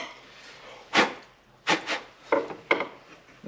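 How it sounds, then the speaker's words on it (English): A hand file rasps along the edges of a Harbor Freight metal clamp held in a vise, a few short separate strokes, close and fairly loud against a quiet background. "throw it in a vise, take a file, and just clean up those edges a little bit."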